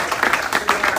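An audience applauds after a debate on Haiti's political transition, a brief stretch of steady, dense clapping at moderate loudness with no voices over it.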